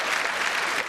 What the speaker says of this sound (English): I don't even know why you're applauding that.